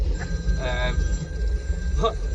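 A telephone rings with two short electronic bursts, under and between people chatting nearby.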